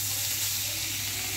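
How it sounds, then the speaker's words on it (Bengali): Shing catfish coated with salt, turmeric, chili and coriander powder sizzle steadily in hot oil, a dense, even hiss that holds close and loud throughout. "আবার মাছগুলো ভেজে নিব।"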